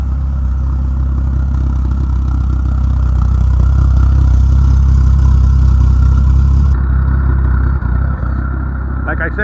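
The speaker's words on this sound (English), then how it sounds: "Let me rev it up for you. It sounds so nice." A 2002 Harlan HTLPAG airplane tow tractor's gasoline engine revs up loud and close, a steady low mechanical roar holding for several seconds before easing back toward idle.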